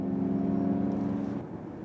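A steady low electric motor hum with a layered tonal whine from a Ford Mustang Mach-E all-wheel-drive electric car, close and moderately loud, easing slightly toward the end.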